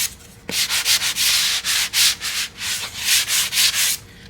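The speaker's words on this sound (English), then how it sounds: "Use a sanding block just to go ahead and clean up the edges." A hand sanding block rubs back and forth along the edges of wooden bathroom floating shelf pieces, giving about a dozen steady, scratchy strokes in a quick rhythm, close and loud with no voices.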